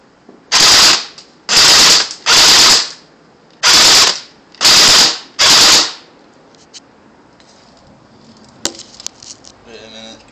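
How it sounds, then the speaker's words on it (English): Cyma CM046 AK47 airsoft gun firing full auto in a backyard, six loud, sharp bursts of rapid rattling shots separated by short pauses, followed by faint clicks and handling noises. "Shooting full auto at the tree."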